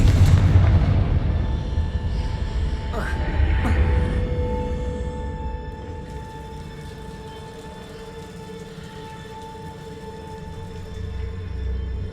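A Confringo spell blast in Hogwarts Legacy, a heavy booming explosion with a rumbling low end at the start that fades into a long tonal ringing tail, with soft game ambience underneath.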